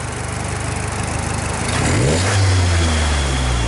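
A car engine fitted with a new Damond transmission mount idles, then revs up sharply about halfway through, rising in pitch and holding a loud, steady drone close by.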